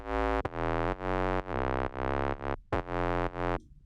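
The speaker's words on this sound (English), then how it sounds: "it's a looper style bass, which sounds like this" A synth bass plays a looping pattern of sustained, buzzy low notes with short gaps between them, loud and alone.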